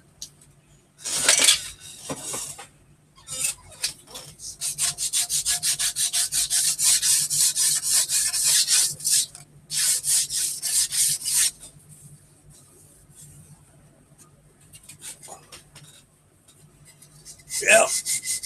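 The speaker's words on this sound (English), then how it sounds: "It's always good to sand these things down before you dry fit them, make sure all that flash is off there." Sandpaper rubs back and forth over small plastic model kit parts to remove flash, producing bursts of close, raspy scraping in uneven strokes, with pauses in between and brief talking at times.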